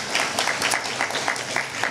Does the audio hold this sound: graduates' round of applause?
yes